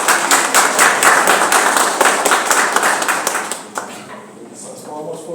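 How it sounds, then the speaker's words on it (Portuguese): Audience applause for a speaker at a Parque da Ciência event session, a dense run of hand claps from a full room that thins toward the end, with voices murmuring faintly underneath. "Essas palmas foram para ele"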